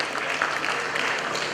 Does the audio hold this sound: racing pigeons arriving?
no